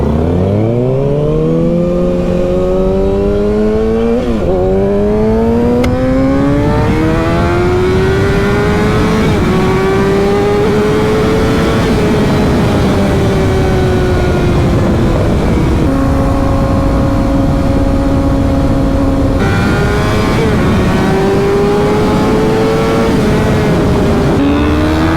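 An American muscle car accelerates hard off the line, its loud engine note rising through gear changes with repeated climbing revs across a long, continuous pull, close and dominant with no talking.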